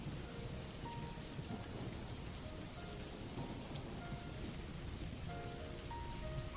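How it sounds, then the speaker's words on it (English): Steady recorded rain pours without break, a dense hiss with a low rumble of distant thunder beneath, played in the background during a plushie sewing session; no one speaks. "I figured it'd be a bit more immersive if I played some rain noise."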